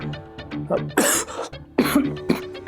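Several harsh coughs and throat-clearing bursts, close and loud, mixed with voiced sounds between them.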